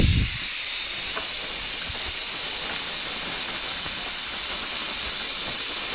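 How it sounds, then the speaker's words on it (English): A 3F Jinty steam locomotive at full pressure blows off excess steam through its safety valve, a loud, continuous, close hiss that starts with a brief thump and holds steady throughout. "she's reached her pressure and she's just blowing off the excess steam"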